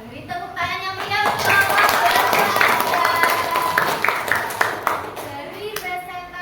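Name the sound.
classroom applause after a presentation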